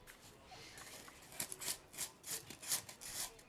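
A sharp knife saws through a block of foam in a series of short, dry rasping strokes that grow louder and more rhythmic toward the end, heard up close with no talk.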